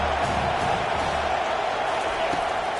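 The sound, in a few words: home stadium crowd cheering at football game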